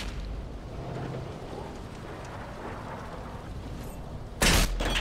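A tank cannon shot and blast in World of Tanks ends a steady rumbling, rain-like battle ambience with one sudden loud broadband burst near the close.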